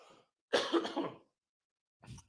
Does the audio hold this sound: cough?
yes